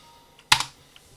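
A single sharp computer keyboard keypress for the Ctrl+W shortcut, close and crisp, with faint ticks just before and after it in a quiet room.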